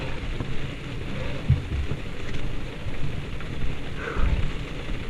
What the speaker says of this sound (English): Actually, it's just raining.